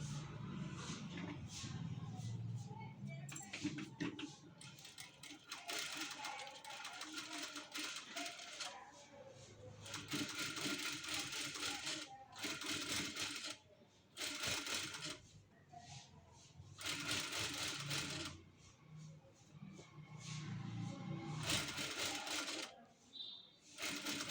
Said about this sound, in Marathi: आता वरून आपल्याला टीप मारून घ्यायची आहे